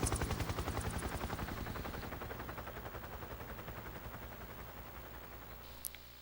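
A helicopter in the Metal Gear Solid 3 video game thumps with rapid, loud rotor beats that pulse evenly and slowly fade, alone with no voices.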